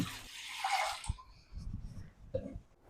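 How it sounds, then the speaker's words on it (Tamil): Water pours into a pot in a steady rush for about a second, then stops, followed by a few clinks and soft handling noises nearby. "முதல்ல இந்த அளவுக்கு தண்ணியை ஊற்றிட்டு"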